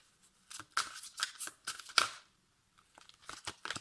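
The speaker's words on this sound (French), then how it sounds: "J'ai pris le tarot des anges et je bats les cartes" Angel tarot cards are shuffled up close in quick bursts of soft papery riffles and flicks, with a short pause in the middle before more brisk shuffling resumes.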